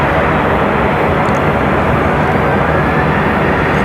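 A FedEx ATR turboprop arriving at Raleigh-Durham airport produces a constant loud broadband roar, close and unbroken throughout, with no talk.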